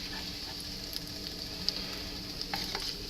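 Bacon sizzles and crackles steadily in a pan while strips are lifted out, with a few faint clicks of a utensil against the pan; no voices.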